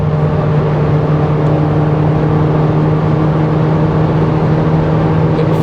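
Volkswagen Golf GTI engine droning steadily in fifth gear near 5,000 rpm on the autobahn, a loud continuous hum with strong steady tones and road and wind noise throughout.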